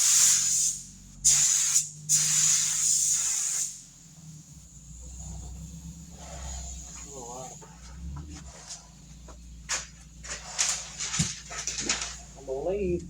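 Spray gun painting a Toyota Tacoma, with several loud hissing bursts at the start, then quieter intermittent spraying under people talking, with a dog whimpering nearby.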